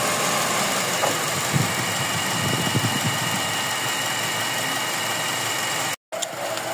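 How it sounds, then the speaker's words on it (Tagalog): A second-generation Honda CR-V with a K20 engine and an overheating problem idles steadily with a constant vibrating drone, close and loud, with a brief cut near the end. "Magba-vibrate yung makina."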